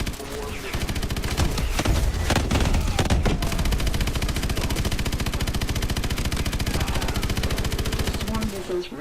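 Rapid sustained automatic gunfire and heavy main-gun fire in the video game Call of Duty: Advanced Warfare, a loud continuous rattling barrage that ends abruptly near the close.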